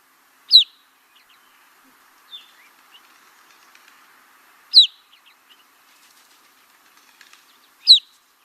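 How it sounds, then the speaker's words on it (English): Three sharp, high finch call notes spaced several seconds apart, clear and fairly close, with faint chatter of other birds between them outdoors in the western US. "Kind of a pure tone whistle."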